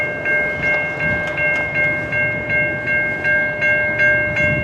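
Train 106 rumbles through the St. John's Sideroad railroad crossing in Pine Orchard while the crossing bell rings in a fast, even, repeating rhythm throughout.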